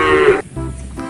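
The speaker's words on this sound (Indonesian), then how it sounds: "yang ini hewan kerbau" A single loud, close lowing call of a water buffalo used as a toy sound effect, one drawn-out moo that drops off into a softer tail, alone.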